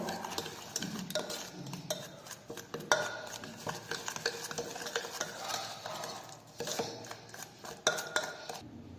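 White vegetable oil being stirred into eggless cake batter in a bowl, faint, irregular spoon scrapes and clinks against the bowl repeating over several seconds, with no talking.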